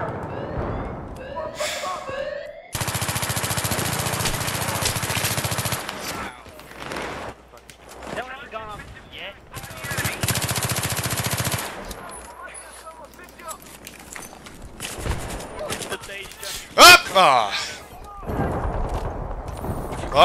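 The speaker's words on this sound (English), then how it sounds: "He's shooting at me!" Gunfire in the Battlefield 3 video game, Rush mode: long stretches of dense, loud automatic shooting and blasts, with players talking over the action.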